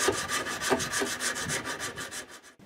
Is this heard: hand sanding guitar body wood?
yes